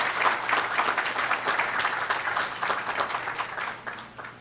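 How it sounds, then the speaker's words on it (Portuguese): Warm applause from authorities and guests at a Brazilian economic development awards ceremony in Minas Gerais, a sustained crowd of claps with scattered sharper hand strikes standing out, steady and moderately loud throughout. "uma forte salva de palmas"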